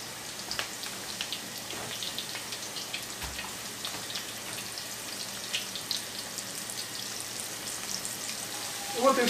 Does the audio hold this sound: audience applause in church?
no